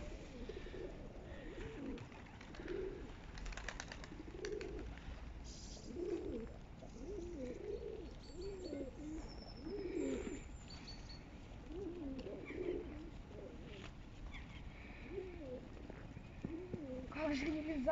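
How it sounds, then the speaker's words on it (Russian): Pigeons coo and flutter in a flock being fed bread outdoors on a cold morning, a steady rolling murmur of calls with light rustling and distant background noise throughout. "Гвардию голубей."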